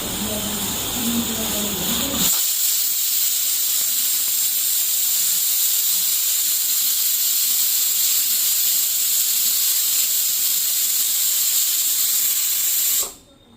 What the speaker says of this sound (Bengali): কষিয়ে তারপরে প্রেশার কুকারে সিটি মারবো, 5টা মতো সিটি মারবো